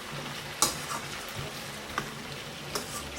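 Mixed vegetables and rice with grated nutmeg sizzle and get stirred in a frying pan over high heat, a steady fry hiss with occasional sharp scrapes and taps of the utensil.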